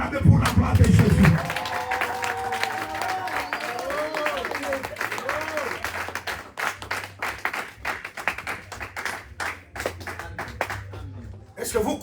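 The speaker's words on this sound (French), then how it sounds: "Est-ce que les saints peuvent acclamer pour la gloire de Jésus?" A church congregation at a French-language sermon bursts into loud applause and cheering that fades into scattered, rhythmic clapping, with a preacher's voice speaking over it.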